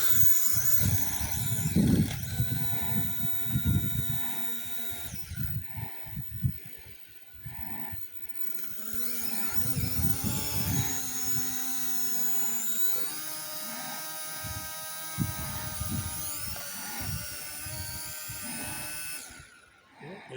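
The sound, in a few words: Chinese drone flying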